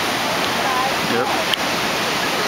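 Steady broadband rush of floodwater fills the clip, loud and continuous, with a brief spoken word partway through.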